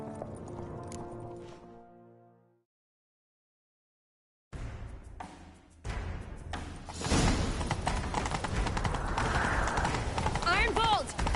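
Horse hooves pound in a rapid galloping rhythm amid game effects in The Witcher 3, with a whinny near the end; an earlier voice fades to a brief silence first.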